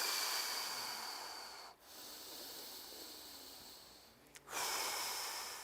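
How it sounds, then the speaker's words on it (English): A person demonstrates steady, deep, rhythmic breathing: long, hissing breaths in and out, close to the microphone, broken by two brief pauses and a sharp snort-like intake before the final breath. "I try to have a good, steady, deep breathing"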